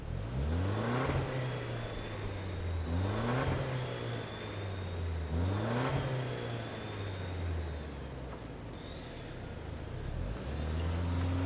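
A 2025 Toyota Land Cruiser midsize SUV accelerates hard through several gear changes, its engine note rising and dropping in repeated sweeps, loud and close, with no talk over it.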